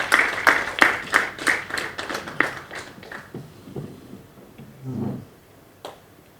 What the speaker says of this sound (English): Can we please clap for our Secretary General?